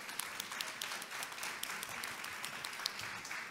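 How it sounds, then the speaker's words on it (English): Audience at a food biodiversity presentation gives a sustained round of applause for the presenters, steady dense clapping throughout with a few sharper claps standing out. "Please give them a round of applause."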